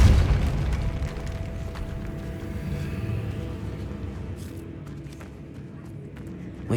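A Depulso force spell blasting in Hogwarts Legacy, a loud, deep booming burst that rolls into a sustained low rumble and slowly fades, with a sharper pop returning at the very end.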